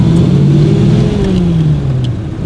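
A classic Ford V8 engine at the Classic Days at Schloss Dyck revs close and loud, a deep throaty rumble whose pitch rises slightly and then falls away as the revs drop.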